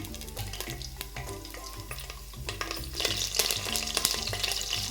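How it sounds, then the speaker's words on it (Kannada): Mustard seeds, cumin and curry leaves temper in hot oil for a bitter gourd dish, crackling and sizzling more loudly in the second half, with music playing underneath throughout. "ಸ್ವಲ್ಪ ಸಾಸಿವೆ ಸ್ವಲ್ಪ ಜೀರಿಗೆ ಒಂದು ಹತ್ತಷ್ಟು ಕರಿಬೇವು ಸೊಪ್ಪು ಹಾಕ್ತಾ ಇದ್ದೀನಿ"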